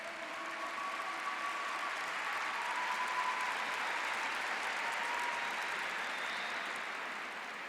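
A church congregation applauds steadily for several seconds, a broad even wash of many hands clapping at moderate volume without speech on top.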